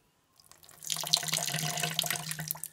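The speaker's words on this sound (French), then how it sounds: "Et ensuite, vous mettez un petit peu d'eau, histoire que ça commence à aller dans les tuyaux." Tap water runs into a clogged sink drain being treated with baking soda and vinegar, starting after a brief silence and building to a steady close rush of splashing water.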